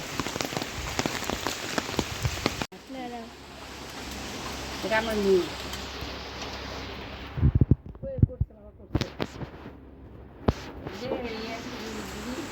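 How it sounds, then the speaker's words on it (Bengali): Steady rain falls, a dense even hiss through the first half that thins and fades, followed by scattered louder knocks and thumps near the end. "ভালোই বৃষ্টি হচ্ছে সকাল থেকে"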